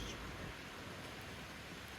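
Rain falls steadily on a wet vegetable garden during a two-day downpour, a faint, even hiss that holds without a break.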